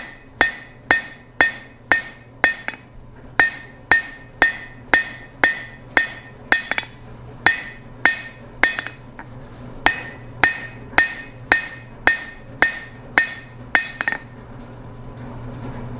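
Hot steel being hammered to draw out the taper of a fire poker, a steady run of about two dozen sharp ringing metallic blows in even rhythm, close and loud, stopping near the end.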